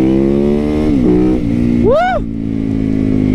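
A supermoto motorcycle engine drones loudly and steadily while riding, with the revs dipping and rising. A rider's voice whoops once partway through.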